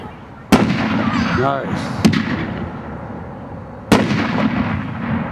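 Pyro Candy consumer firework cake firing three loud, sharp shots spaced a second or two apart, each followed by a rumbling tail and a brief whistle after the first, with a short spoken remark.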